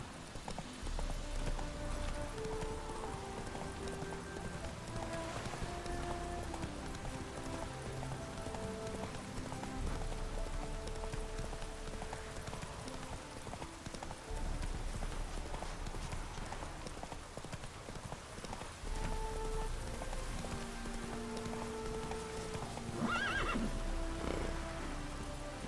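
In the game Witcher 3, a horse's hooves clip-clop in a steady galloping rhythm beneath a continuous musical and ambient game bed, with faint neighing in places.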